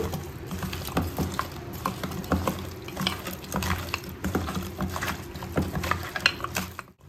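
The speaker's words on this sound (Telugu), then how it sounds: "ఇది బాగా ముక్కలకు పట్టేలాగా కలిపి పెట్టుకోవాలి" Goat head meat is worked together with ginger-garlic paste by hand, making continuous wet squelching and clicking, close and busy, with no voices.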